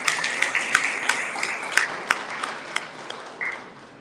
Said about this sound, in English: So give yourself a round of applause because you are making this.